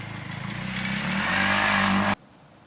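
A motocross dirt bike's engine drones and rises in pitch as it accelerates on the road, loud and close, then cuts off abruptly near the end.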